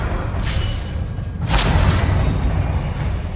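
A Confringo spell explodes in the Hogwarts Legacy video game with a sudden, loud whooshing burst partway through, followed by a sustained rumble over ongoing battle noise.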